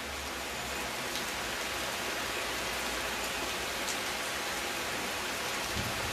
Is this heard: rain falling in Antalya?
yes